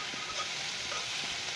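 Sliced sweet peppers and garlic sautéing over medium-high heat give off a steady, close sizzle with faint stirring scrapes, no talking.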